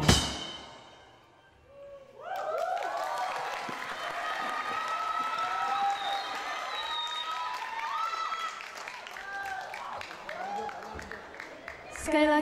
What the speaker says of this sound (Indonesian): Sekali lagi beri tepuk tangan yang meriah untuk penampilan dengan judul karya Buzzer Dove